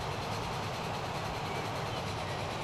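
A train rolls past on track in the railway-building game Transport Fever, a steady, dense rumble with a low clattering undertone holding even throughout, with no voices.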